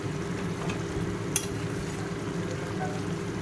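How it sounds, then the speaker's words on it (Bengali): Oil and ghee sizzle steadily in a pan as a Bengali mocha and prawn curry fries, a constant soft hiss with a faint clink of a utensil partway through. "এবার একটু ভালো করে ফ্রাই করতে হবে"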